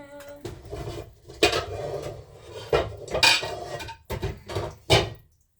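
A frying pan is handled in a home kitchen while breakfast is made, giving a series of close metallic clanks and scraping knocks against cookware, loud and irregular, with no talking.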